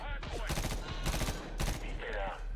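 Gunfire from the 2010 video game Medal of Honor: a dense, continuous barrage of rapid shots fired from several directions, loud and close, with no pauses across the stretch.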